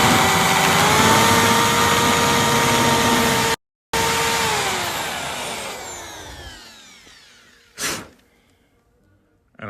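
A spot weld cutter on a drill boring out spot welds on a Dodge Power Wagon body, a loud whining grind that cuts out briefly, resumes, then winds down and stops, followed by a short metallic clunk.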